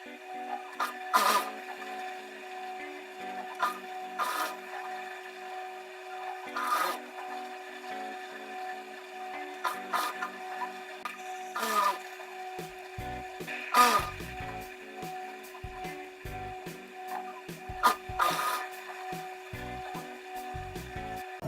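A sewing machine stitches small fabric scraps into a patchwork rug, with a steady mechanical whir and periodic louder clunks from the needle and presser foot, close up, without speech.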